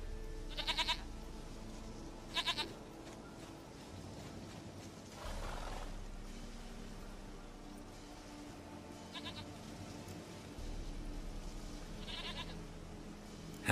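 Several short, bright bleats from a goat in The Witcher 3 come in separate bursts over a low, steady game ambience, with no talking.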